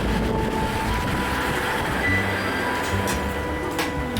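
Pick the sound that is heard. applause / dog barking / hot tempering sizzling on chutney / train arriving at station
train arriving at station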